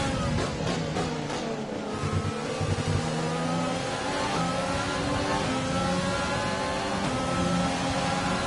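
An F1 2020 video game car accelerates hard down a straight at the Canadian circuit, engine note climbing steadily with upshifts, loud and continuous throughout.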